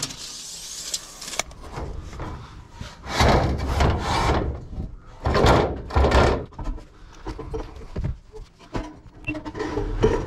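A terrace roof panel is sawn to length on a wooden-frame terrace roof, giving irregular rasping strokes of varying loudness with brief pauses and scattered knocks.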